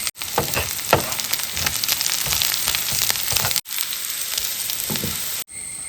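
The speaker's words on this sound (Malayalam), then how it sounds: "ഒന്ന് ഇളക്കിക്കൊണ്ടിരിക്കുക." Shallots and onions frying in oil for a mackerel curry, a loud continuous sizzle with frequent stirring scrapes and clatters, broken by two brief cut-outs.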